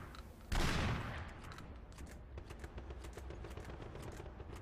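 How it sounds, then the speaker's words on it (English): An LS13 shotgun fires in the sci-fi shooter Killzone 2, giving one loud, close blast. It is followed by a run of quick mechanical clicks and clatters as the weapon is handled. "Fully loaded, the LS13 chambers 8 shells, each firing a dense cloud of pellets."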